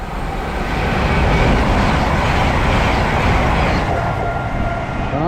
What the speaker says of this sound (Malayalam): സ്റ്റോപ്പില്ലാത്ത ഒരു ട്രെയിൻ വരുന്നുണ്ട്